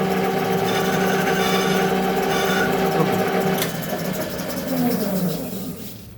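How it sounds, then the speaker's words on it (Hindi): A lathe drills a custom spacer for a quick change tool post, giving a steady mechanical whir with tonal hum that shifts midway. Someone talks over the machine noise. "we drill this"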